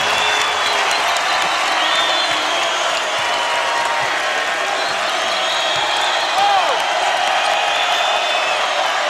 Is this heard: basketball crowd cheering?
yes